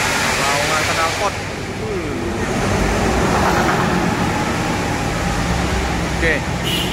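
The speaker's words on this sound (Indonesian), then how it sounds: "Laungan knalpot." An intercity bus with a loud aftermarket exhaust roaring steadily at a terminal, a dense continuous rumble with no break, while people talk over it nearby.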